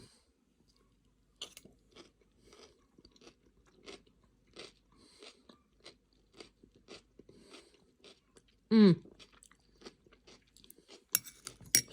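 Someone bites into a three bean salad with crisp onions, chickpeas and kidney beans, giving a series of soft, close crunches and chewing sounds in a quiet room, with a louder clunk near the end.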